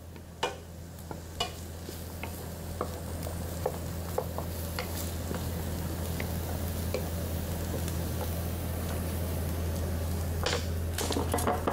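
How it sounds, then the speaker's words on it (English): Lamb curry sizzles softly in a pan, a steady frying hiss with occasional clicks and taps of stirring, over a low hum of the kitchen. "Starting to sizzle a little bit now."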